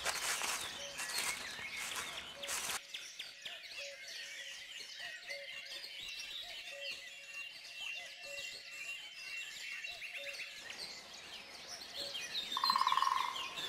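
Wild birds chirp near the pond at Lorge castle in Côtes d'Armor, with a repeated faint call sounding at a steady rhythm over soft outdoor ambience and some light rustling.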